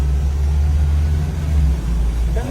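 A Ford Fiesta engine runs steadily after a repair job, a loud low hum close by with no talk over it.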